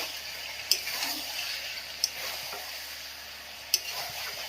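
Meat stir-fried with turmeric powder hisses in a pan with a steady sizzle, broken by three sharp clinks of a spatula against the metal at roughly even intervals.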